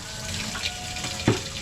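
Water runs steadily from a tap while a house is being cleaned, a continuous splashing hiss with a brief louder gush near the end.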